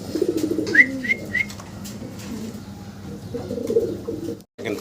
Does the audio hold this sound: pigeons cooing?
yes